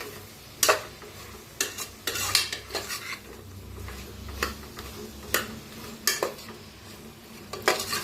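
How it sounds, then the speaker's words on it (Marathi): A spoon stirs spiced masala rice in a cooking pan. It scrapes and clinks against the metal in irregular close strokes, with a faint sizzle underneath and no talk. "छान मिक्स करूया."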